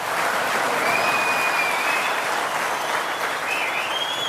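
Studio audience applause on the Indian TV show Aap Ki Adalat, a full, steady wash of many hands clapping at even strength for several seconds, with no talking over it.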